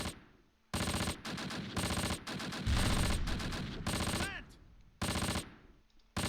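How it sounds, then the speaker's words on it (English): Game gunfire from the Close Combat World War II strategy game, Normandy in August 1944: loud repeated machine-gun bursts and heavy fusillades in several separated volleys, close and dense, with a short lull before the final burst. "Not sure who's still shooting."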